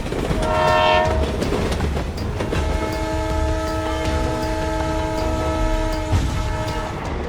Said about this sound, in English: Despite train drivers constantly sounding the horn